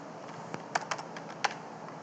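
Keys on a computer keyboard are tapped in a short irregular burst of light clicks, close and fairly quiet, with no one talking.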